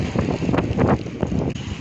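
Strong wind roars steadily through a rainstorm in Uttaradit province, Thailand, a dense, rumbling gust noise buffeting the microphone without pause for the whole stretch.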